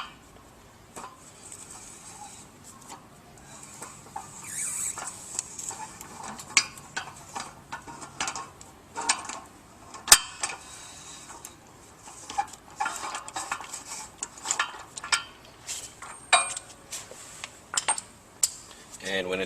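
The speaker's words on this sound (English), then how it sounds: "we'll use a 41mm socket to loosen the shaft seal" A 41mm socket working loose the shaft seal on a Pentax water pump, giving irregular metallic clinks, taps and ratcheting clatter scattered across the stretch at moderate-to-faint level, with someone talking quietly beneath.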